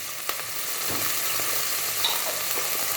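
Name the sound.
ginger garlic paste frying in pan for Thai fish soup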